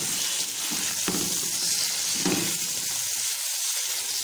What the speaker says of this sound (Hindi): इसमें गाजर ऐड करेंगे और साथ ही हम इसमें मटर ऐड कर देंगे। इनको हमें हल्का सा फ्राई करना है।